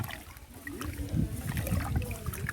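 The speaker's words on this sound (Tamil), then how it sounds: "தண்ணி எடுத்துறேன் இதை ஒரு ரெண்டு டைம் கழுவிட்டு" Rice being washed by hand in water in a pot for pongal in a village kitchen, with soft close sloshing, swirling and gurgling, fairly quiet.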